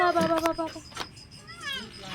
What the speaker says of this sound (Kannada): This second cat that is come close to us for today.